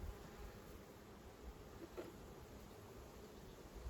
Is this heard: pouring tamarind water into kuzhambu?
no